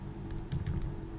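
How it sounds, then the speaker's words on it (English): A short burst of a few quick keystrokes on a computer keyboard entering a command, soft clicks over a steady low hum. "then we type the command firmware 7 create"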